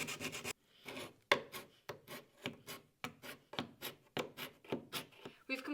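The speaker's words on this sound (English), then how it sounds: "we like to use small bits of sandpaper and also the carbide scraper to get as close to the edge as possible" Small pieces of sandpaper and a carbide scraper are worked by hand along the edge of wooden stairs, giving a steady run of rhythmic rasping strokes, close and moderately loud, about two each second.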